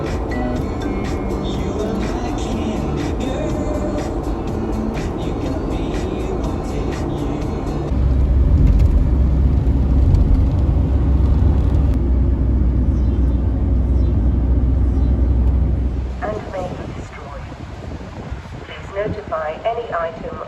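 A 1981 mk1 Vauxhall Astra 1.2 saloon with 60 horsepower on the road, a steady engine drone with wind noise from inside the cabin, a deeper rumble midway, then quieter toward the end.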